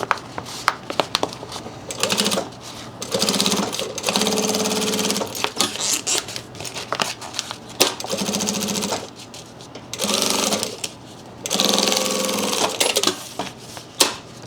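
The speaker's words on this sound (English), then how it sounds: "Now we'll do our top stitch." Sewing machine running bursts of top stitching on backpack fabric, several loud stitching runs separated by short pauses, with faint handling noises between them.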